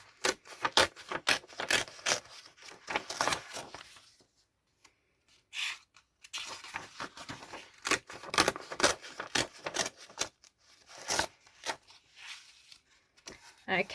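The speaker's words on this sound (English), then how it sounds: "now I'm going to rip out 2 pages again." Rough, rasping paper tearing as two pages are ripped from a book while altering it, in repeated bursts with a short pause, close up and under occasional talk.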